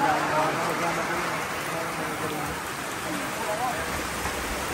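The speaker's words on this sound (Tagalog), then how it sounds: "inabot kami ng ulan" Steady rain patters and hisses on surfaces nearby, a continuous wash with faint voices murmuring underneath.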